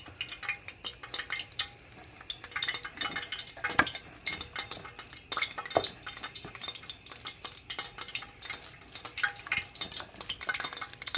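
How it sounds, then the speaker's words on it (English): Water droplets pop and crackle in hot oil in a freshly washed wok while fish ball mixture is fried, giving a steady busy sizzle with scattered sharp pops and a few louder bursts throughout. "You can probably hear a little bit of popping sounds."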